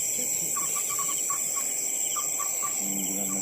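At night, during a wet hunt after rain, a moorhen gives short, chicken-like clucking notes in scattered bursts. The calls sound moderately close over a constant high insect drone.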